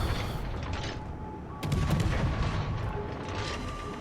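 Warship guns firing in World of Warships Legends, a dense run of booming, overlapping shots that grows heavier partway through and holds a constant rumbling roar, with no talking.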